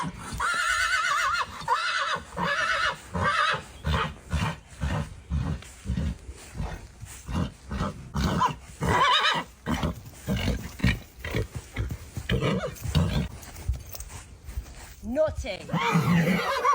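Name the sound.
stallion neighing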